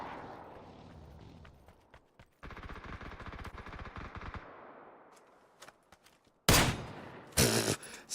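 Automatic gunshots from the PUBG video game rattle out in a rapid burst, then fall quiet before two louder, closer blasts of fire, with no talking.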